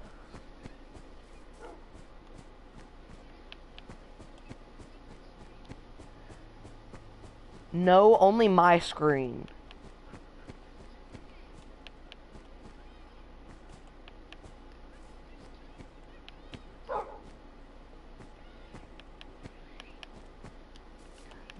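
A dog in the Minecraft video game gives a short burst of yips and barks, clear and fairly loud for about two seconds, followed later by one brief faint yelp, with a voice talking quietly in between.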